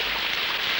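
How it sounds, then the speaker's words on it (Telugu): Rain falling outside, a steady soft patter and wash of drops on surfaces, even and unbroken through the brief moment with nobody speaking. "వర్షం చూడు ఎంత అందంగా కురుస్తుందో."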